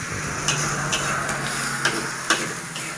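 Frog meat stir-fries over flaming fire in a wok with a steady sizzle and hiss, broken by a few sharp metallic taps of the spatula spaced roughly half a second apart.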